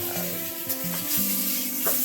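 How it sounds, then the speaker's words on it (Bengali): Second batch of poppy seed fritters frying in a pan, a close, steady sizzle with repeated scraping stir strokes and light clatter, no talking. "এবার সেকেন্ড রাউন্ড ভাজা চলবে"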